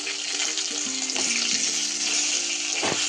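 Stuffed brinjals fry steadily in hot oil with garlic and homemade spice masala, a close, even sizzle with a few soft stirring knocks and no talk.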